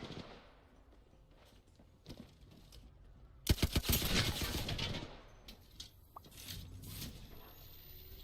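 Gunfire from a shooter game: a quick burst of loud, rapid shots breaks out after a quiet stretch, then trails into scattered fainter shots and clatter.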